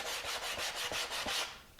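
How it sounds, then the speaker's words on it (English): Sandpaper of 120 grit rubs by hand across a Mini Cooper logo sign, not wood, in quick, even back-and-forth strokes with very little pressure, about seven close scratchy passes that fade out at the end. "Very little pressure you have to sand this out."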